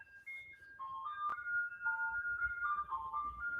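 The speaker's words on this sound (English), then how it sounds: "Ice cream truck jingles and all." Ice cream truck jingle playing a simple electronic melody of bright, stepping tones, faint and somewhat distant, with a soft low background murmur.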